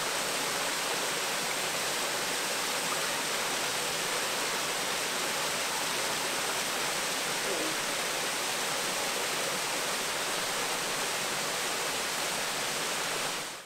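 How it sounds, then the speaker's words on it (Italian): Sa Spendula waterfall in Sardinia roaring nearby, a dense, steady rush of falling water that fills the whole stretch without a break. "Bellissimo il rumore di acqua che c'è qui."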